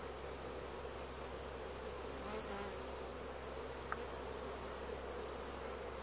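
Honeybees buzz steadily at an open hive during a July honey harvest, a dense, continuous drone with no voices over it.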